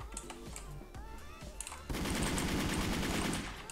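An automatic rifle in a video game fires a long rapid spray of shots, loud and continuous after brief scattered clicks and game sounds at the start.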